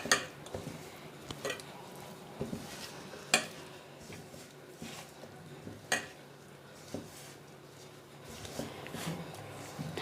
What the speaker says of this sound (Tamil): கொஞ்சம் கருவேப்பிலை, இது எல்லாத்தையும் சேர்ந்து ஒன்றா மிக்ஸ் பண்ணிக்கலாங்க.